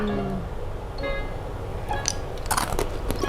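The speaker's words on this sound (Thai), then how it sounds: "ใครชอบเคี้ยวน้ำแข็งน่าจะชอบ" Ice cubes from a home ice maker chewed up close, loud continuous crunching and cracking bites, with brief speech-like sounds faintly in the background.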